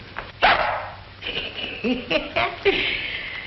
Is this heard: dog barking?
yes